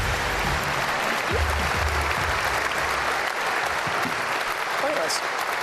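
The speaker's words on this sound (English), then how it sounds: "that's the biggest cheer of the night so far, Nadia." A studio audience bursts into sustained cheering and applause for a guest walking on at a television show, a dense, steady roar of clapping and whoops that fills the whole stretch without pause.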